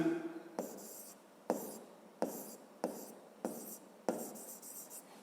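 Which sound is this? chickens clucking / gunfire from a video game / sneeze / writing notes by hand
writing notes by hand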